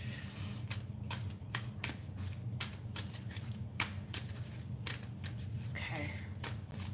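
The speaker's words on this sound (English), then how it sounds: "So that's how I shuffle, if you guys are wondering what I'm doing." A deck of tarot cards is shuffled by hand in sharp, irregular riffles and snaps over a low indoor hum, with a voice talking now and then.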